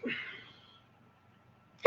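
A short sneeze-like burst opens, then silence, and another sharp breathy burst cuts in at the very end.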